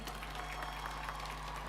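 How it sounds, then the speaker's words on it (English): Faint applause from the audience at a University of Nairobi graduation ceremony, a soft, steady patter of clapping heard from a distance under a low electrical hum, with no voices. "another round of applause"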